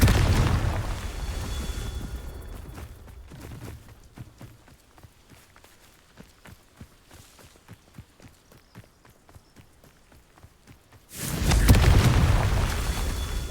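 Confringo blasting spells in Hogwarts Legacy erupt in loud rumbling booms at the start and end, with quieter rhythmic footsteps in between.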